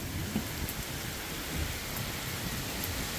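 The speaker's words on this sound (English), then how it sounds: "Rainy afternoon." Rain falls steadily on a rainy afternoon, a dense even hiss with scattered patters close by and no voices.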